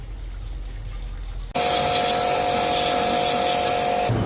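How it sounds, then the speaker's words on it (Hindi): Water sprays and splashes over gear parts from a Brezza engine during an overhaul wash, a steady loud rushing hiss that starts abruptly after a quieter stretch and continues without talk. "ये गियर पूरा बढ़िया से धुल गया।"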